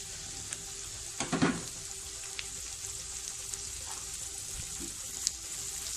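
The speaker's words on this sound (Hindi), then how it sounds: "बस हम इस चिकन को 1 मिनट कुक करेंगे मीडियम फ्लेम पे" Shredded chicken stirred into softened onions in a pan over a medium flame, giving a steady low sizzle with a few spoon scrapes and clatters early on, close and fairly quiet, no talking.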